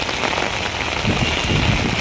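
Steady rain falls and patters on hard surfaces along the waterfront of Manila Bay's Harbour Square, a dense, close hiss with no voices.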